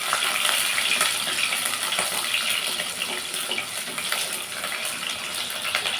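Chopped peeled onions sautéing in a pan for a village-style okra tamarind curry, a steady broadband hiss of frying that stays even and close throughout, with no voices.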